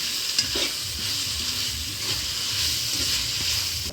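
Onion and tomato frying in a pan for Mangalore-style chicken curry, a steady loud hissing sizzle with occasional soft stirring scrapes, close up and continuous, no speech.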